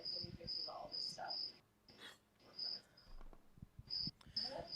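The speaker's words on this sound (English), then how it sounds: "those cicadas are so freaking loud" Loud cicadas buzz outdoors in repeated shrill bursts that pulse on and off in a rhythmic pattern, with some low background noise and faint voices underneath.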